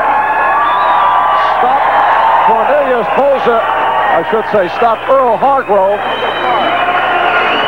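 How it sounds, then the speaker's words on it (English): A boxing crowd in Tampa cheers and buzzes after a John Mugabi knockout. A ringside commentator talks loudly over a continuous, distant arena roar. "the crowd is still buzzing as John Mugabi"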